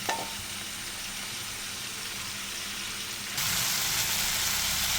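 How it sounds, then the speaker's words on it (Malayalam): Shallots, garlic and green chili sautéing in oil in a pan for a mango tomato chutney, a steady soft sizzle with light stirring that swells louder toward the end. "ചുവന്നുള്ളി, വെളുത്തുള്ളി, പച്ചമുളക് ഇതെല്ലാം കൂടിയിട്ട് വഴറ്റിയെടുക്കണം"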